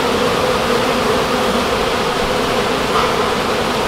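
Dense, steady buzzing of many honeybees swarming around an opened beehive, loud and close, continuing without pause and with no talk.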